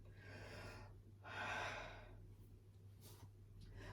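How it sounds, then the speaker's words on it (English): Breathing during a dynamic yoga session: a soft inhale, then a fuller, deeper breath drawn in and slowly released, quiet and close against a low steady hum. "Take a full breath."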